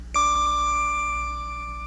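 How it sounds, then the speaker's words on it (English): A single bright bell-like chime rings out clearly and decays slowly over about two seconds, alone with no voices, marking a page turn in a children's read-along storybook. "Every time you hear this chime,"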